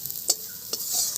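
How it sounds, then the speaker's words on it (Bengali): Shrimp fries in oil in a wok, a close, lively sizzle broken by a couple of sharp clinks from stirring or lifting the pieces out. "চিংড়ি মাছটাও ভাজা হয়ে গেছে, আমি চিংড়ি মাছটা তুলে নিচ্ছি।"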